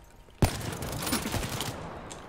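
A sniper rifle fires in Call of Duty Black Ops III gameplay: one sharp, loud crack followed by a dense rattle of echoing gunfire and game effects, with no talking.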